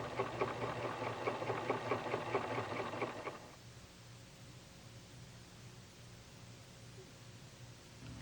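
A PFAFF sewing machine runs a steady straight stitch with a quarter-inch piecing foot and straight stitch plate, whirring evenly for about three seconds and then stopping, leaving quiet background hum.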